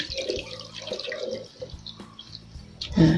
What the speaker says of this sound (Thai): ก็จะใช้ช้อนกวนเหมือนเดิมค่ะ แล้วก็กรองน้ำเหมือนเดิมค่ะ